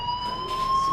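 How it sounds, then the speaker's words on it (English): A fire alarm sounds in the video game Life is Strange, a steady electronic tone held throughout at moderate level over low background noise. "Hey, do you hear that fire alarm?"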